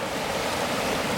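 Waterfall in the Niagara Falls area at high spring-thaw flow, a dense continuous rushing roar of water with no pauses.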